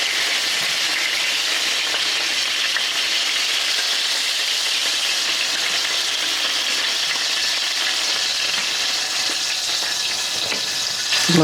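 Chicken pieces fry in hot oil on their second side, giving a loud, continuous, even sizzle that holds steady throughout.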